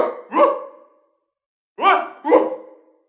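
Strange short yelps from Fortnite henchmen screaming as they fall from a gigantic ship, game sound files: two pairs of loud, clipped bark-like cries separated by a second of silence, alone with no talk.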